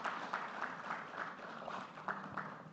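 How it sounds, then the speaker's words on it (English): A conference audience at an opening plenary applauds the board chair, with moderately loud, scattered clapping and a faint murmur of voices under it. "A round of applause for my board chair"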